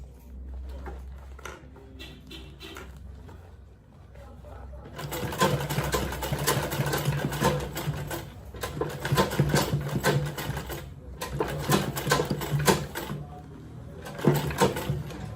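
A sewing machine back stitches the handle of an unlined shoulder bag in repeated close bursts of stitching, separated by short pauses, with a voice speaking between runs.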